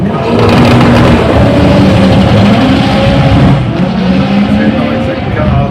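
Sports compact drag racing cars at Santa Pod, their engines roaring loudly and continuously up close, with a commentator talking over the noise.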